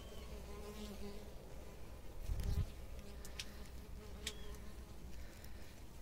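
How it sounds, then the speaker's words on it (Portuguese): Honeybees buzz steadily around mango fruit at an apiary, a close, continuous insect drone with faint overlapping wingbeats and no speech. "olha o tanto de abelha aí, olha aí, isso aí ela transforma em mel"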